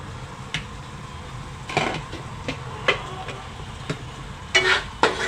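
Cauliflower and potato sabji being stirred in a pan with a spoon, giving a scatter of soft scraping clinks and scrapes over a quiet low sizzle, close and moderately quiet, with no talking.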